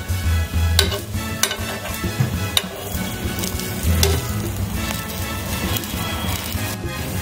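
Patishapta pitha fries in a nonstick pan with a steady close sizzle. Scraping and stirring strokes from a spatula cut through it at intervals, and there are occasional light knocks against the pan.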